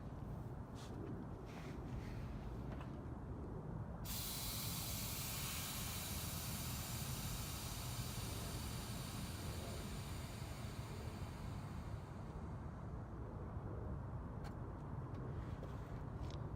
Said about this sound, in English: So now I will show a clip of it airing out real quick.